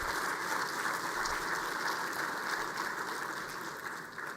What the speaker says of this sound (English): Another round of applause for the governor.